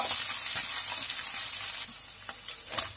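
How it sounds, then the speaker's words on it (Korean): Beef mince and onion sizzle in a hot pan while a spatula stirs them. Continuous frying crackle sits under uneven scraping strokes that grow more distinct toward the end. "뚜껑 열고 소고기 민스와 양파가 잘 섞이도록 주걱으로 잘 저어줍니다."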